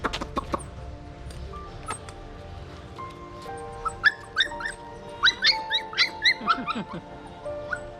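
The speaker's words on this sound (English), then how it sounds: "Another little puppy." Small, high yips and whimpers from a puppy in Battambang, Cambodia, repeated in quick bursts, with clucking chickens and other background noise around.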